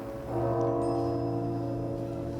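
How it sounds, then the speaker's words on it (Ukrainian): Steady tonal ringing of church bells in Ukraine at 6 p.m., with sustained overlapping tones, moderately loud and continuous, no voices. "Це дзвони, які лунають щодня о 6 вечора за Києвом"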